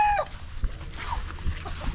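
Chickens clucking in a Filipino backyard where birds are kept for breeding and roasting, soft scattered clucks at moderate distance with little else around.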